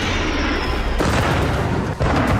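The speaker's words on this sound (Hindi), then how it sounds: "ताबड़तोड़ धमाके" Explosions during a Russian attack on Kyiv, Ukraine, heard as a dense, continuous roar of booming blasts and rumbling fire with a brief dip before the barrage resumes, loud and close.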